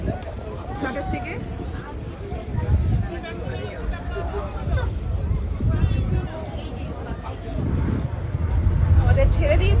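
A boat pulls away from a ghat in the Sundarbans carrying passengers, its engine rumbling steadily and water churning under a crowd's chatter and wind buffeting the microphone.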